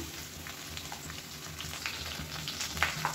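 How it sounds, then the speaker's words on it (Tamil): Oil sizzles and crackles steadily as ground spice powder sautés in a pan, a close, even hiss with scattered sharper pops and no voices. "இந்த எண்ணெயில் வந்து லேசாக ஒரு பரட்டிக்கலாம்"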